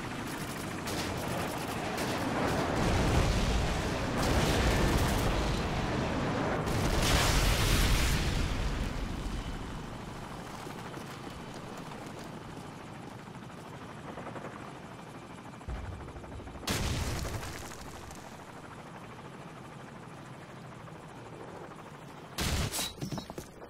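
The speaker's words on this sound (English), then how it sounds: "Airstrike on the way." Call of Duty 4 gameplay: heavy rumbling airstrike blasts and gunfire roll through a loud combat din with aircraft noise, surging in bursts and then easing into sporadic shots and impacts.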